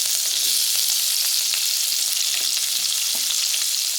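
Onions and curry leaves hit hot oil for Kumbakonam kadappa, giving a loud, steady, dense sizzle that fills the whole stretch with scattered crackles, close up and with no voices.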